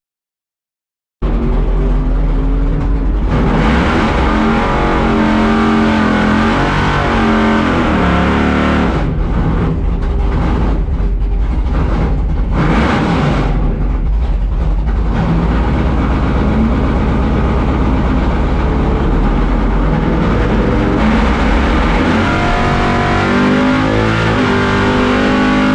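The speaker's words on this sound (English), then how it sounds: "Drag racing." Drag racing cars roar at the Foxhunt event, a heavy low engine rumble starting abruptly and holding loud and steady for most of the stretch, with brief throttle dips in the middle.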